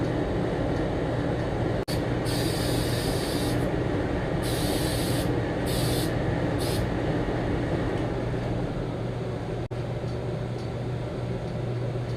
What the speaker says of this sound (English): That's how you spray it.